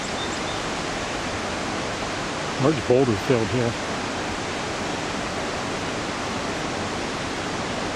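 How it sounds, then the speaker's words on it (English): The New River rushes below Hawk's Nest Dam as a loud, steady broadband roar of water, with someone briefly talking over it. "it's the New River below the Hawk's Nest Dam."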